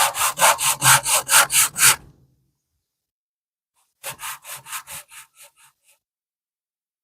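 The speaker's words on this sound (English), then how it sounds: "You can stack the 3 edges or the 3 fins together and simply run them over the sandpaper." Three stacked model rocket fins rubbed back and forth over sandpaper, a quick run of about eight rhythmic rasping strokes, a pause of silence, then another fading run of shorter strokes, close and clear with no talk.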